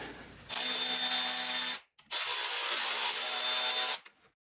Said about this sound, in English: there is two 13mm bolts right there that I'm going to be taking out